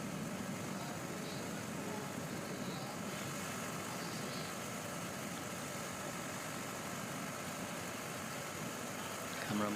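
Camera motorbike engine idling and droning steadily behind a cyclist near the finish of a European road race championship, a constant mid-low hum with broadband road and crowd noise and no clear change in pitch.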